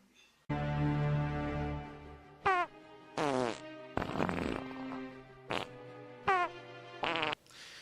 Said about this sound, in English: A fart is a fart